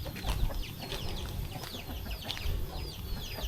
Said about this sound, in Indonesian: Tuh, ayamnya banyak banget ini ayamnya.